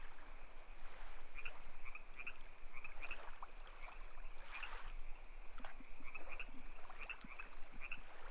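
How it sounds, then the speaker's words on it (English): Crickets chirp in faint, repeated pulses over a soft, continuous wash of flowing stream water, with no voices present. "Are you hearing like the crickets and the water sounds on stream?"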